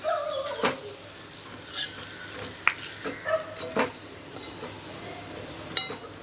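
Jeera aloo with chaat masala and garam masala is stirred in a pan: a soft sizzle underlies repeated spoon scrapes and light metallic clinks against the pan, close and intermittent, without talk.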